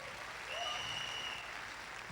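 Audience applause at a live stage event, a steady wash of clapping from a crowd that swells slightly and holds for about two seconds with no talking.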